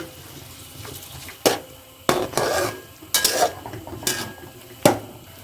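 Lamb karahi with black pepper, coriander and spices being stirred in a pot, with several loud, separate scrapes and clanks of a utensil against the metal and a faint sizzle between them.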